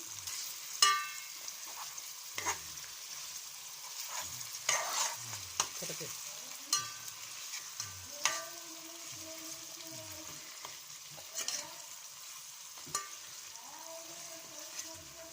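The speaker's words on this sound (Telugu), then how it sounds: "ఒకసారి అయితే లైట్గా ఇలా మసాలా పట్టేటట్టు తిప్పుకుందాం." Masala being stirred through fish curry in a pan, a spoon scraping and knocking in scattered strokes over a faint steady sizzle, close and moderately quiet, with no talking.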